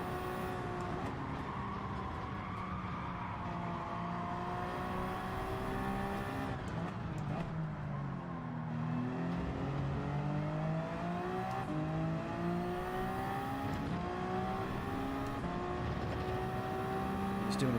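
Race car engine at Fuji Speedway in Gran Turismo 7, a continuous high revving whine rising and falling through gear changes and braking zones, loud and steady, with a commentator talking over it.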